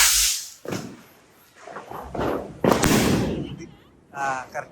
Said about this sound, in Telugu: ఇంకోటి తీసుకురా, కరెక్ట్గా వదలాలి రాకెట్, లేకపోతే చాలా ఇబ్బంది.